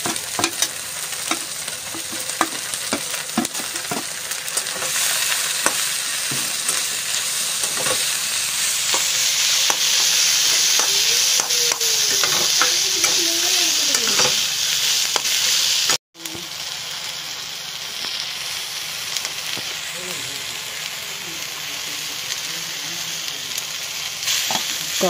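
Crab momo filling of ground crab, potatoes and mixed spices frying in a pan in a home kitchen: a loud, steady hissing sizzle with repeated scraping stirs, briefly cut off midway before resuming just as strongly.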